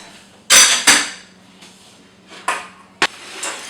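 Metal whisk strikes and scrapes against a pot while creme patisserie of milk, egg yolks and sugar cooks over medium heat, several sharp clinks and scraping bursts close by, with a steady low hum underneath.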